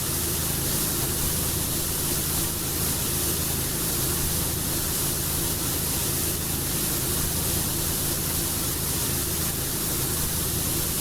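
Pressure washer spray in PowerWash Simulator, a steady, loud hiss of water jetting without a break, with no voices.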